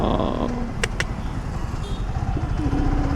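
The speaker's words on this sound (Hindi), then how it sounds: "ट्रैक्टर जा रहा है सामने" A tractor passes on a busy road in heavy traffic, its steady engine rumble filling the low end throughout, with a couple of brief high clicks early on and no talk.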